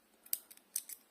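Scissors snipping crochet yarn, a few quick sharp metallic cuts close by in a quiet room.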